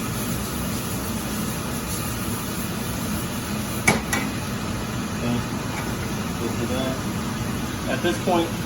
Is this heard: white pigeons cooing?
no